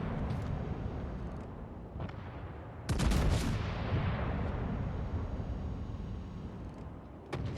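A battleship's main guns fire a salvo in a naval warfare video game: a loud booming blast strikes a few seconds in and rumbles down over a steady low background roar, with no voices.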